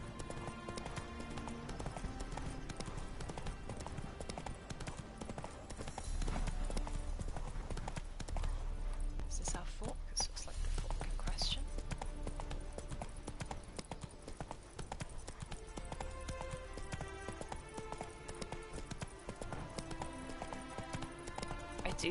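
Roach, a horse in the video game The Witcher 3, trots along a road with a steady clip-clop of hooves under continuous game music, loud and close, with no talk.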